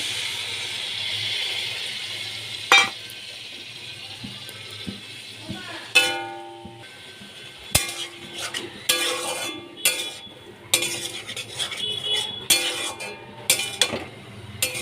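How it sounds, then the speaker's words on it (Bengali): Spice paste for shukto dropped into a hot pan and stirred, with a soft steady sizzle under repeated scrapes and clinks of a metal spoon against the pan. "এবার আমি মশলাটা দিয়ে দিচ্ছি"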